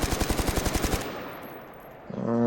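A rapid burst of about ten evenly spaced shots from a gun loaded with regular FMJ rounds in the shooter game Mercenary of the Zone, loud and close, trailing off into a fading echo before a tonal interface sound.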